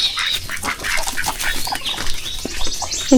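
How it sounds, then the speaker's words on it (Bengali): A busy mix of bird noises with quacking ducks, some wing flapping and rustling, fairly close. "দেখুন কত হাঁস"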